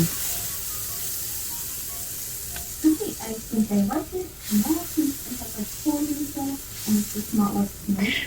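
Butter sizzles and melts while being stirred in a hot pan, a steady frying hiss beneath someone speaking throughout, with soft scraping stirs.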